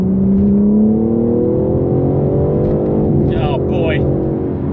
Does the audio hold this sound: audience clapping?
no